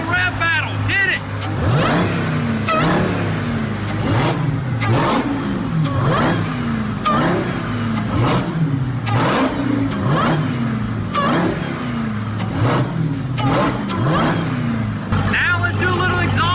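A Dodge Hellcat Charger with a Corsa carbon intake and a Jeep Trackhawk trade sharp, loud engine revs up close, about a dozen quick rising bursts with whining supercharger pitch sweeps between them.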